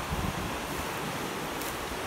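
Swollen creek at a farm running high after rain, a steady broad rush of flowing water with some wind buffeting, continuous and fairly loud throughout.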